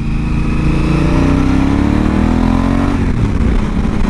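A Honda Africa Twin motorcycle engine hums while being ridden, its mid-pitched drone climbing smoothly as the throttle rolls on. Near the end it drops back as the rider eases off, with no talk over it.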